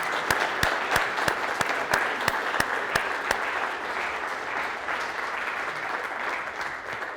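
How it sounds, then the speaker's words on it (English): An audience at a stage talk on personality tests applauds Alex as he comes down, giving dense, steady clapping with sharp individual claps standing out at first, then settling into an even wash that lasts throughout. "Let's give Alex a round of applause because he's amazing."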